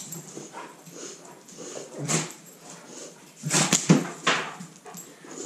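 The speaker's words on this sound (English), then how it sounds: "The dogs are probably going to go crazy." Dogs whimpering and giving short excited barks and yips at close range, in irregular bursts over a quiet background.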